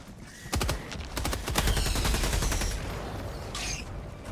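Rapid bursts of automatic gunfire in the video game Helldivers 2, a dense rattling volley under a continuous roar of battle noise.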